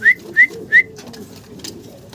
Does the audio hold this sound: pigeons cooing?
yes